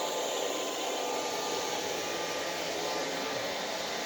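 An iLife V3 robotic vacuum cleaner runs indoors with a steady, even whirring hum of motor and airflow that holds unbroken at a constant level, with no talking.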